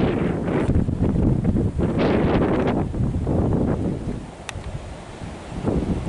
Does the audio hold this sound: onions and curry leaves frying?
no